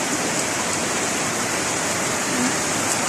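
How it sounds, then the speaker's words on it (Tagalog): Heavy rain pours onto a city street while water runs along the road, a dense, loud, unbroken hiss of falling drops and flowing water with no voices. "naliligo yung mga kabataan sa ulan."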